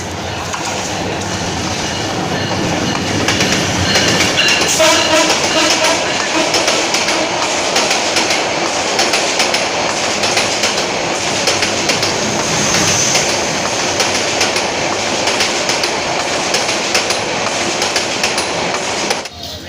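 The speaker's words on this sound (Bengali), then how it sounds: "কিশোরগঞ্জ এক্সপ্রেস ট্রেন নাম্বার সাতশো বিরাশি" Kishoreganj Express, train number 782, running on rails near Kishoreganj railway station, a loud steady rumble with rhythmic clickety-clack of wheels and some metallic squeal, continuous and close throughout.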